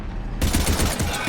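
Rapid automatic gunfire from a firefight in the game Mass Effect 3, a loud burst of closely spaced shots starting abruptly after a brief quieter moment and continuing to the end.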